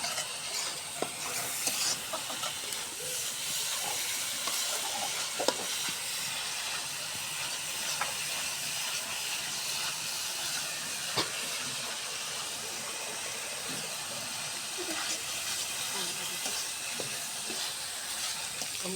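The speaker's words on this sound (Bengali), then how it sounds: "দিয়ে মশলাটা আমি ভালো করে একটু কষে নিব।" Spice paste frying in hot oil while being stirred for a lentil and okra curry, a steady soft sizzle and hiss throughout with faint occasional scrapes of the spoon, no talking.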